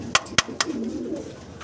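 A pair of pigeons coo softly and close by, with a few sharp clicks early on and a low, rolling coo underneath.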